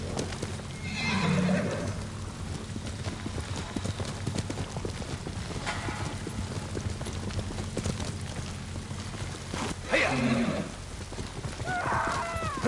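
Horses neighing and galloping, steady clip-clop of hooves throughout with a few sharp whinnies rising above the trampling, close and moderately loud.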